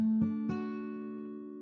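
Guitar strumming major triads on the 4th, 3rd and 2nd strings, two close plucked chords in quick succession, each ringing out and slowly decaying, alone without talk.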